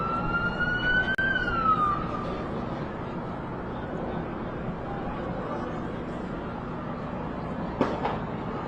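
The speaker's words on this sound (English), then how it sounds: "And you can hear the sirens and what sounds like a gunshot as people begin running" Emergency sirens wail over a dense, rumbling crowd and street noise at the Kansas City Chiefs Super Bowl parade, a rising-and-falling tone early on, with a sharp crack near the start and another later.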